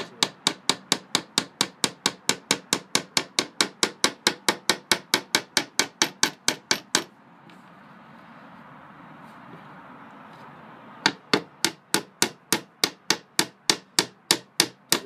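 Hammer driving nails into wood while building a cupboard: a fast, steady run of sharp, close blows, a pause filled with soft rustling, then another quick burst of strikes.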